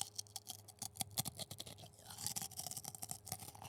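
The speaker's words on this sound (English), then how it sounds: "Oh, listen to the crunchy chip." A chip is crunched between the teeth close to the mic, with a quick series of sharp, dry crackling bites and chewing over a few seconds and no talking.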